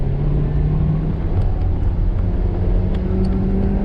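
A Kia Carens turbo petrol engine in sport mode hums with a steady, loud low-pitched drone from inside the car, a continuous engine rumble with no talking.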